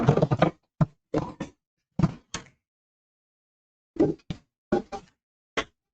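Objects being put back into a drawer, heard as a series of close, irregular knocks and thunks in two clusters separated by a pause, with no talking.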